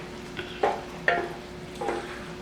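Okra cooking down in a pot, with a low sizzle and a few distinct stirring scrapes and clinks of a spoon against the pot, close and fairly quiet.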